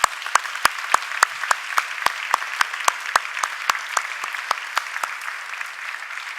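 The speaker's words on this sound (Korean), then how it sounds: "우리 한번 이 어르신께 한번 박수 한번 보내겠습니다" A church congregation applauds an elderly member after a prayer during a Sunday service, a steady run of sharp, evenly spaced claps that carries on for several seconds with no talk over it.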